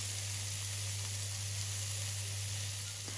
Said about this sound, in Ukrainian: Додаю перець та обсмажую з обох боків до золотистого кольору